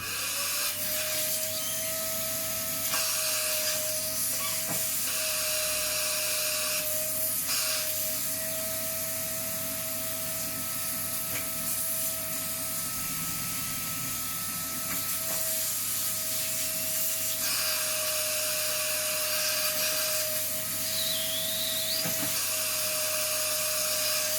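A home crab picker vacuum runs steadily throughout, sucking meat from crab claws with a constant whine and airy suction rush, close and fairly loud, with slight scraping and rubbing variations and no talk.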